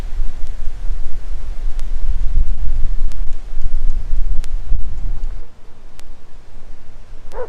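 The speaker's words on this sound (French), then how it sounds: "il y a un vent de folie, Motril dans le vent" Powerful wind at Motril, Spain, roars and gusts steadily against the microphone, a heavy low rumble that drops off briefly near the end before picking up again.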